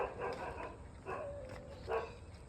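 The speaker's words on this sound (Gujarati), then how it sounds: "અને કૂતરા પણ ભસી રહ્યા છે." Several dogs bark in short bursts at moderate distance, three main volleys spaced about a second apart, with fainter yips between them and no talk over the barking.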